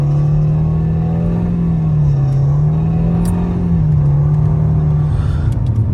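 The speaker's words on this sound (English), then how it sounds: "So we're going to simply accelerate really fast." A 2013 Nissan Altima with a transmission problem accelerates hard, its engine droning loud and close with a steady rumble that dips and rises slightly as revs change, with no talking.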